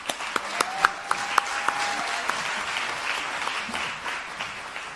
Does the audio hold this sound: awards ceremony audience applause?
yes